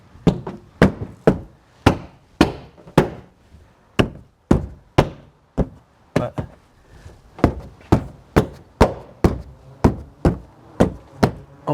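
A door latch on a 2016 Subaru Forester being tapped into place: a long series of sharp, close knocks at a steady, quick rhythm, about two per second, with no talking.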